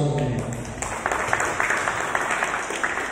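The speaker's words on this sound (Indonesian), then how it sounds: "Kasih aplaus." A crowd at a KNPI Karawang regional coordination meeting gives sustained applause. The steady clapping follows a brief stretch of voices at the start.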